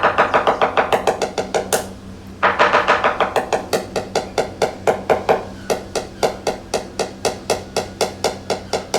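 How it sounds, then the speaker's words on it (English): Sharp hammer taps strike the gel coat of a new Leopard catamaran in quick rhythmic bursts, loud and close, with a brief pause near the start before the tapping resumes at a steady pace. "Can you just tap it again?"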